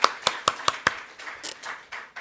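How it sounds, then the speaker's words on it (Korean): A church congregation at a Sunday worship service claps in thanks. A few sharp, separate hand claps come close together, then thin out into softer, scattered clapping. "우리 온 마음을 감사 박수할까요?"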